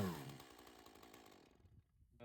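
A chainsaw engine runs loudly at first, then its buzzing tone fades and winds down toward silence before a brief final rumble.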